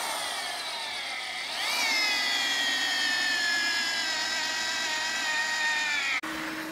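DeWalt drill spinning a 1.5-inch auger bit through a wood log for a Swedish torch stove, a loud steady whining drone whose pitch rises then slowly sags as it bites, cutting off abruptly near the end.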